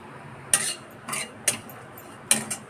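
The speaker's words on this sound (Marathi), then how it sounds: "खोबरं भाजून घेते आता." Dry grated coconut roasting in a pan over a low flame, with a metal spoon scraping and clinking against the pan in four short, spaced bursts. The sound is close and quiet, with no talk.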